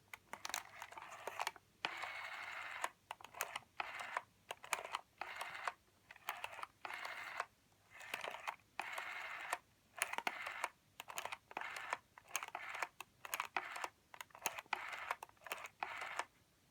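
Dialing out on a 1983 Mediterranean Blue Western Electric Trimline telephone: a quiet, irregular series of soft clicks and taps in short clusters, close and faint, continuing throughout.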